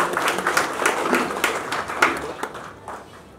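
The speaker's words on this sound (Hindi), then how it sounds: "जोरदार ताली से उनका स्वागत होना चाहिए" Loud clapping from an audience at a social workers' honouring ceremony, with distinct sharp claps in an uneven rhythm that fade out toward the end.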